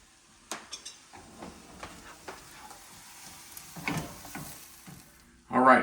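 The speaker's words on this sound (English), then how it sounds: "get these onions cooked through, make sure that they're translucent" Onions for sausage rolls fry gently in a pan with a soft sizzle under sporadic scrapes and taps of a spoon, close and fairly quiet, ending in a brief louder burst.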